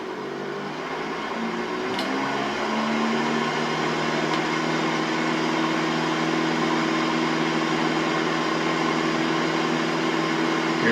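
A small single-engine airplane runs at full takeoff power, its steady loud engine drone and prop hum building slightly as it rolls down the runway with flaps extended, heard from inside the cockpit with no talk.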